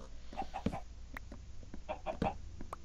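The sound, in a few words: chicken clucking in Minecraft video game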